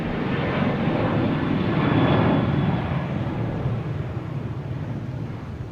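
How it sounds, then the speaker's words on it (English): An American Airlines Boeing 737-800 takes off from Boston Logan bound for Charlotte, its loud jet roar swelling to a peak and then slowly easing while it climbs away, with no talk. "There's American Airlines taking off, heading to Charlotte."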